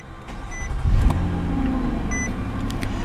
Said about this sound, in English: put your foot on the brake, and then hit this chrome ring start button in the dash to fire it up.